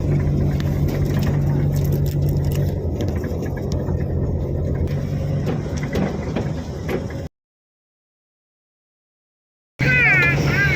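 A car driven through heavy rain, a steady broadband wash of road and rain noise with a low engine hum, running continuously for about seven seconds, then a gap of silence before the same noise returns briefly.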